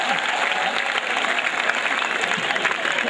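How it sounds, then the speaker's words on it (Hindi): A hall full of students and faculty at IIT Roorkee claps loudly and continuously, a dense, even wash of applause with no pauses and no voices over it. "जोरदार ताली एक बार बजा दो।"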